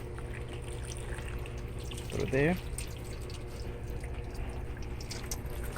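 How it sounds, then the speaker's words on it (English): Water is poured into the vent of a Mercedes C300, giving a brief gurgling splash over a steady hum, with a person speaking briefly. "I'm gonna pour some water in here."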